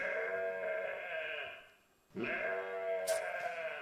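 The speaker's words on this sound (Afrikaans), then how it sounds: "Daai arme skaap klink nogals of hy 'n probleem is." A sheep bleats twice in long, wavering, nasal cries, close and clear, with a short quiet gap between them.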